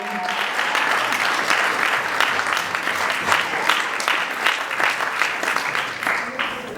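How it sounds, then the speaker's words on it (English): A wedding audience applauds during the father of the bride's speech, steady loud clapping that fills the whole stretch with dense, rippling claps and no pauses. "How about a big round of applause for Robert and all of our teachers tonight?"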